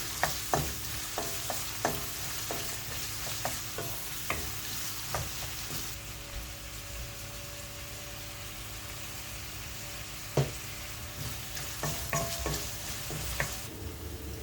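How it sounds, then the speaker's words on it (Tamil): Food sautés in a pan with a little salt as a chicken gravy base is started, with a continuous soft sizzle under repeated sharp scrapes and taps of a spatula against the pan, all at a modest close level. "கொஞ்சம் சால்ட்டு போட்டு வதக்கிக்கலாம்"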